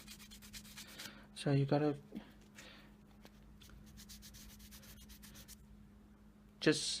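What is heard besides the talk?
sanding resin ring by hand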